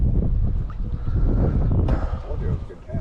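Strong wind buffeting the microphone on a spring fishing outing by the water, loud low rumbling gusts throughout with people talking beneath it.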